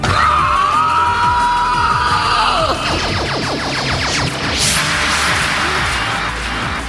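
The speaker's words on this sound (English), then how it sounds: "these things called screech-a-bitches, they kind of sound like this" A harsh, shrieking creature screech from the film Flash Gordon rises and warbles, then breaks into rapid stuttering pulses and a noisy, grating roar; loud and close.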